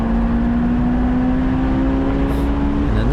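A supercharged Honda S2000 is carried fast through a track corner, its engine holding a steady, sustained drone with a faint whine riding over continuous road and wind noise.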